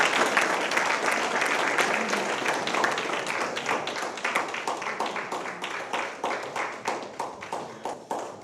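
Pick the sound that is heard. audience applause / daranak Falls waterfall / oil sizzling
audience applause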